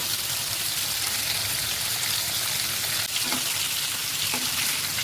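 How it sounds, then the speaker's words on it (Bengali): Potatoes fry in hot oil with a dense, steady sizzle that stays loud and close throughout, with an occasional faint clink beneath the hiss. "সবগুলো আলু ফ্রাই করে আলুগুলো ভালো করে ফ্রাই করে নিচ্ছি"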